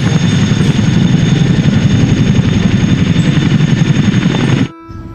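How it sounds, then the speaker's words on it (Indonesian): A loud, continuous navy military helicopter rotor thrum with rapid chopping beats, close and steady, cutting off abruptly near the end. "Dan yang ini helikopter tentara."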